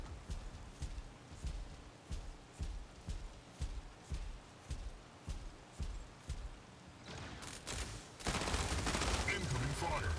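Weapon fire from a Mech Arena 5v5 deathmatch on the Neon Central map: steady, rhythmic bursts of shots about twice a second, then a denser, louder barrage of blasts at the end.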